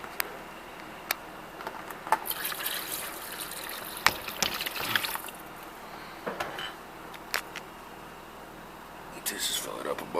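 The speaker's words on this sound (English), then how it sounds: "Just add a little bit of water." Water poured from a container onto a dry microgreens tray, heard as uneven gushing and trickling bursts that come and go over about ten seconds at close range, fairly quiet overall.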